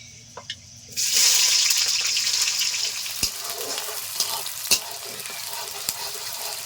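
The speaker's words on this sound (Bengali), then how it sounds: "দু মিনিট মতো পেঁয়াজটা ভেজে নিতে হবে" Chopped onion drops into hot oil with whole garam masala for a home-style chicken biryani. A sudden loud sizzle breaks out and holds steady, with sharp clicks of stirring spoon and utensil scattered through it and no voices.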